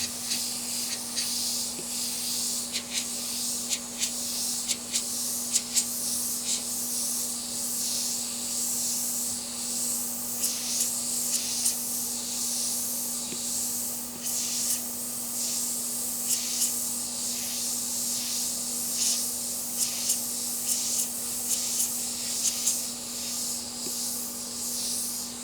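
An airbrush sprays paint onto wood with a steady, soft, continuous hiss that pulses slightly, over a constant low compressor hum, with no talking.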